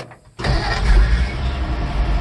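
A 1957 Ford F350 truck, throttled up for its dump pump, cranks briefly and fires at once, settling into a loud, steady running rumble close by.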